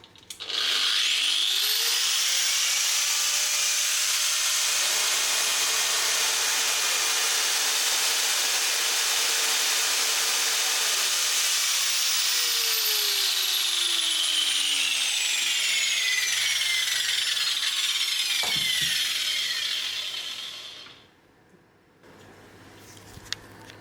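A power tool run from an ALLPOWERS S2000 Pro portable power station whines loudly at high speed for about twenty seconds, its pitch drifting as it runs, then winds down and stops.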